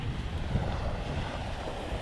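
Ocean waves washing in close at Venice Beach, Florida, a steady rushing surf with constant wind buffeting the microphone and no voices.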